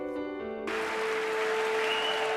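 Applause for a presidential speech in news footage, a steady roar of clapping that rises abruptly after a held musical tone and continues to the end.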